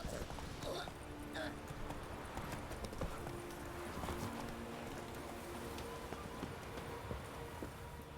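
The horse Roach gallops in The Witcher 3 with a fast, steady clip-clop of hooves, fairly quiet, while a voice speaks over it.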